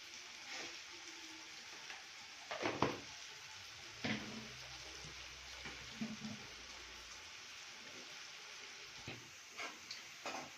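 Onions fry with salt in a pan for chicken fry, a soft steady sizzle with a few louder stirring scrapes and clatters, faint and close.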